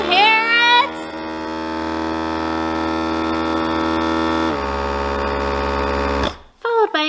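A vacuum jar sealer machine starts with a loud, steady droning hum that holds for several seconds, then cuts off, with a voice briefly heard at the start and at the end.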